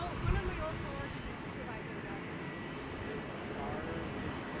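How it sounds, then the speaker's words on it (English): Challenger 300 business jet departing Toronto Pearson at night, a faint, distant steady engine rumble with a low-pitched character, and a voice talking over it. "Challenger 300, I don't know anything about its destination or its ownership or affiliation, but it's taken off."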